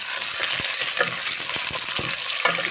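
Chicken pieces frying with browned onions in a pan, a steady loud sizzle with intermittent stirring clicks and scrapes throughout, no voices.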